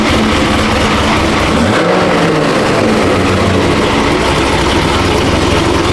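A Corvette C6 Z06 or supercharged Audi R8 sports car engine runs loud and steady, a deep idle rumble with a brief dip and swell of revs partway through.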